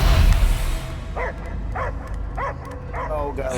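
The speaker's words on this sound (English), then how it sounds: "I hear only barking" Dog barking in the Guardians of the Galaxy video game: a run of about five evenly spaced, mid-loud barks over a steady background rumble, following a louder burst at the start.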